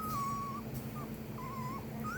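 Hybrid wolf cubs whimpering and crying in thin, wavering high-pitched wails, several drawn-out cries in quick succession over a steady low hum.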